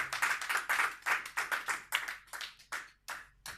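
A church congregation claps in a steady rhythm of sharp, evenly spaced beats that roll on for a few seconds before stopping.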